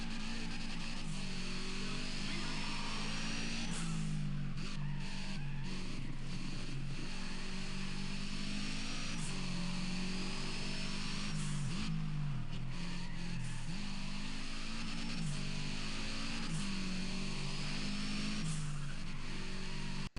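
A car engine in a racing video game revs steadily around a circuit, its pitch climbing through the gears and dropping sharply at each shift, loud and close for the whole stretch with no talk.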